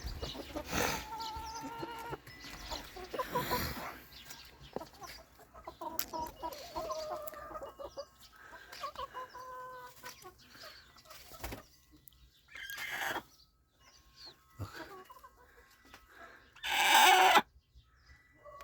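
Chickens cluck and squawk close by in a coop in bursts, with one loud sharp cry near the end and quiet gaps between calls.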